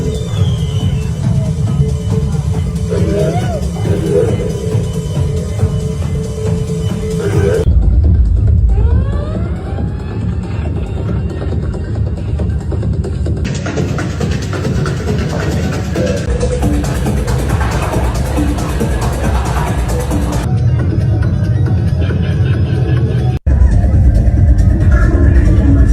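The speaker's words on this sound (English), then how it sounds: "You can kind of tell how sick the sound system is based on these recordings" Loud, bass-heavy club music blasting through the big sound system at Berghain nightclub, slightly distorted as if captured on a phone, with crowd noise underneath.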